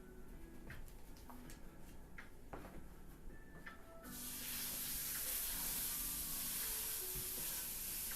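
Ground beef frying in a pan, quiet crackles and small clicks at first, then a sudden steady loud sizzle and hiss that fills the rest of the time, close up.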